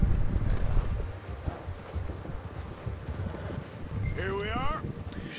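In Red Dead Redemption 2, horse hooves clip-clop under steady wind and background noise. A short rising game sound sweeps in near the end.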